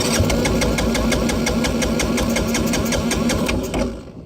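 A 1985 Yamaha Moto 4 80cc ATV engine runs close by with a fast, even putter and rhythmic knock, holding steady before dropping off abruptly at the end.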